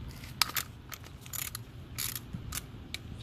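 Wrench clicking as a 10 mm nut is broken loose on a car sensor while fixing code P1140 on an Infiniti, heard as several quiet, separate ratchety clicks and clanks over a low background hum, with no talking.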